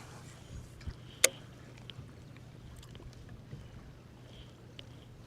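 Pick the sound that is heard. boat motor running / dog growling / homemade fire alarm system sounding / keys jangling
boat motor running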